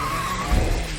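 A cartoon super truck brakes hard to stop a runaway robot, giving a short tire skid and squeal over a rumbling engine, loud and close.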